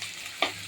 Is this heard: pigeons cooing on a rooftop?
no